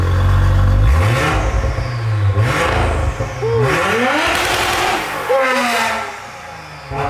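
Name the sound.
car engine revving with bespoke exhaust, valves open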